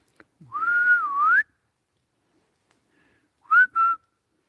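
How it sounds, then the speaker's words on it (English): A loud human whistle outdoors beside a house, one long wavering tone followed after a pause by two short rising chirps, clear and close against silence. "if you hear a good loud whistle"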